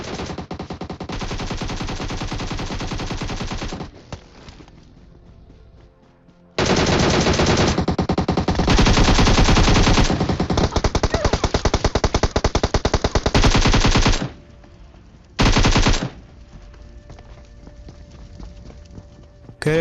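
Bursts of automatic gunfire in the mobile game PUBG Mobile as a three-player team attacks, with long rapid volleys broken by short gaps and a final brief burst, loud and close.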